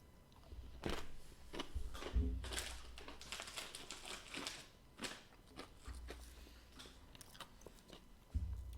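Thin, extra-baked, hard pita chips topped with chartreuse foam are bitten and chewed up close, producing irregular crunches and crackles over a quiet background.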